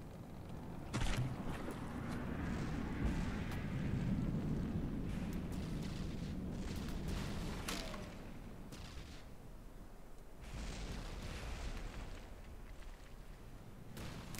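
Cram cannons firing and shells exploding in the naval combat game From the Depths, a dense, continuous barrage of booming blasts and rumbling impacts with sharp reports cutting through, loud and sustained throughout.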